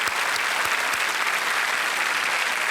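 A big television quiz show studio audience claps loudly and continuously, a thick even roar of hands with a few sharper claps standing out near the start.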